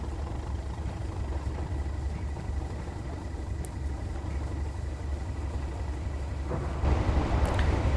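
A Class 37 diesel locomotive idling in a train simulator game, a steady low droning rumble in the background that swells slightly toward the end.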